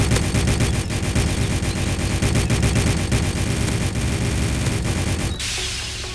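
Rapid, loud gunfire from Roblox Mad City rattles in a dense, continuous stream of shots, then cuts off abruptly near the end, leaving a quieter hiss.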